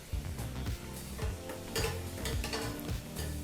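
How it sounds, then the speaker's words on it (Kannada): Palak puri deep-fries in hot oil while being pressed down, a constant bubbling sizzle with spoon or ladle knocks and scrapes against the pan, close by. "ಪೂರಿನ ಎಣ್ಣೆಗೆ ಹಾಕಾದ ನಂತರ ಈ ರೀತಿ ಪ್ರೆಸ್ ಮಾಡಿದ್ರೆ ತುಂಬ ಚೆನ್ನಾಗಿ ಉಬ್ಬುತ್ತೆ"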